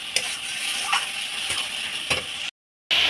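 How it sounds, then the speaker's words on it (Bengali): Spice paste fries in oil with a steady loud sizzle while a spoon scrapes and stirs in several regular strokes, then a brief silent gap before the sizzling resumes. "তো চলো মশলাটা কষাতে থাকি।"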